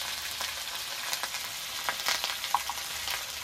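Spice paste with salt and turmeric fries in a pan while an egg and banana-flower dish is being made, giving a steady soft sizzle with faint scraping stir sounds and no talk.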